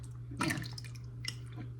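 Ingredients dropped into a pot of broth, giving a brief splash and a couple of soft liquid sounds against a steady kitchen hum.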